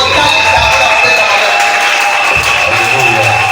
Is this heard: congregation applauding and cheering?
yes